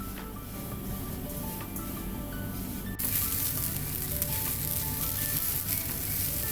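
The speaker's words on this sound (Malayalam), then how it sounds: "ഈ ഫ്ലെയിം നന്നായിട്ട് കുറച്ച് തേങ്ങ നല്ല ഗോൾഡൻ കളർ ആകുന്നത് വരെ നമുക്ക് വറുത്തെടുക്കാം." Grated coconut roasts in a pan for an Onam koottu curry, giving a steady close sizzle that grows louder and brighter about halfway through, with no talk.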